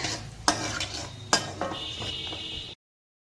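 Whole dried red chillies and other tempering spices fry in hot oil for a Telugu bottle gourd curry, with a steady sizzle broken by two sharp clinks of a spoon against the pan and brief stirring scrapes.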